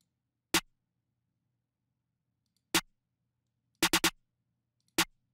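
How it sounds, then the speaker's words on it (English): A snare drum sample from a beat-making drum kit plays as sharp, isolated hits with wide gaps between them, including a quick triple burst, dry and fairly quiet with nothing else around them. "Then I added the snare from the same kit."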